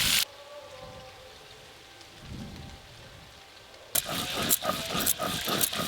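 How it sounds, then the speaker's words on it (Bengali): River fish frying in oil, a continuous soft sizzle that suddenly swells into louder, crackling spatter partway through. "এই মাছটা খুব নরম মাছ, একটু সাবধানে উল্টাতে হবে, খুব ভালো করে তাড়াতাড়ি ভাজা হয়ে যায়।"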